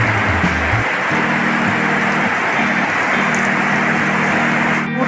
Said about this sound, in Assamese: এনেকুৱা ধাৰাসাৰ বৰষুণ।